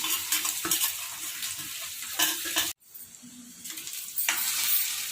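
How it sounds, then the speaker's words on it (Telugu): Onions frying in oil for a curry, a close hissing sizzle with stirring scrapes and clinks, cut by a sudden brief silence midway before the frying noise resumes. "ఉల్లిగడ్డలు వేసుకోవాలి. ఎర్రగా కావాలి, మంచిగా నూనెలో ఉడకాలి."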